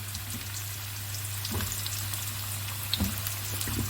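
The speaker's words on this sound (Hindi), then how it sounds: "ये शलजम जो हैं आप उसमें गरम ऑयल में डालें" Turnip pieces sizzling in hot oil or ghee, a steady close crackle with a few louder pops and spatters, no voices over it.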